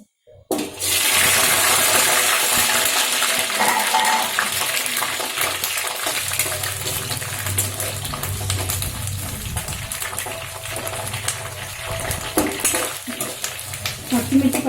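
Green chillies sizzle in hot oil in a pan for a village-style chutney, a loud, continuous close frying hiss that begins abruptly and then settles, with occasional pops and stirring clatter near the end.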